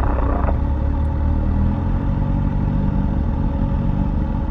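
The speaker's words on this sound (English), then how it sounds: "there's a Beetle behind me. And his engine is beefy." A Volkswagen Beetle with loud, beefy exhaust pipes idles close by at a fuel pump, giving off a continuous deep, throaty rumble with a faint clatter near the start.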